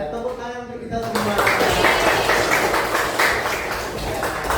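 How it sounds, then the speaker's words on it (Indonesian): Students clap together in a classroom, a dense steady wash of applause that begins after a second of voices and keeps going loud to the end. "Tepuk tangan untuk kita semua."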